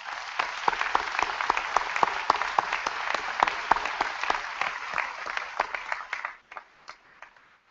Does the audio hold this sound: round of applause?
yes